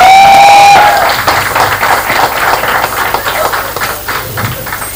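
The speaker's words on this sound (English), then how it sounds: "Please welcome all our panelists with a huge round of applause" An audience at a book launch in Mumbai breaks into steady applause for the panelists, a dense wash of many hands clapping that follows a loud sustained tone and slowly eases off.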